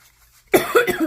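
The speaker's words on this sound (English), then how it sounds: "I am still fighting this cough, so I apologize." A short run of harsh, close coughs bursts out after a moment of near silence, with no talking.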